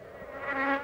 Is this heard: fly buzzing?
yes